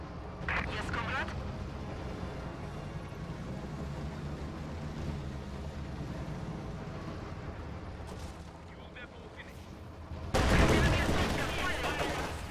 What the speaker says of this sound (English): Stug fires at the T-70 right there